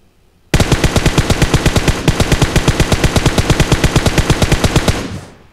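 Rapid automatic gunfire in PUBG Mobile: a loud, evenly spaced burst of dozens of shots lasting several seconds, then cutting off and fading out.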